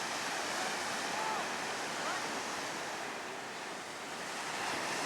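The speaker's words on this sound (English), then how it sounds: "There's some guys surfing down here. It's pretty good waves." Ocean surf with surfers offshore near a cliff, a steady broad wash of breaking waves heard from a distance, mixed with wind noise and faint, indistinct voices.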